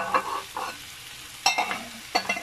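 Tomatoes for Indonesian sambal fry in a pan, coming as three separate bursts of sizzling and stirring with quieter gaps between them.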